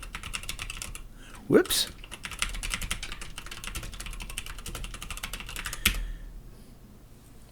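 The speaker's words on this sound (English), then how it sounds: "So I'm just going to type in" Steady typing on a computer keyboard during a Windows 95 custom install, continuous close clatter of keystrokes with a couple of louder knocks, and a brief spoken interjection.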